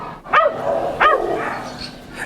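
Small dogs, Chihuahuas, at a public animal shelter in Los Angeles, giving two sharp, high yapping barks about half a second apart, close and loud, followed by fainter yips in the background.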